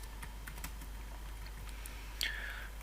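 Someone types code on a computer keyboard, with scattered soft close key clicks over a steady low hum and a faint higher tone near the end.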